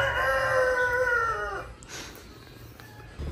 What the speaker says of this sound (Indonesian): Mana tadi yang berkokok?